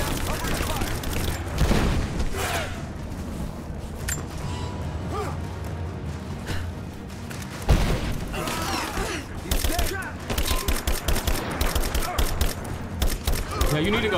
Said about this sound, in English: Give me covering fire! Lay down covering fire!